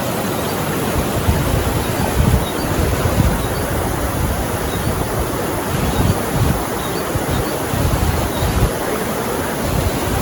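River water rushes steadily past a riverside campsite at Ciherang in Rancabali, Bandung, a loud continuous broadband roar with no pauses and no voices.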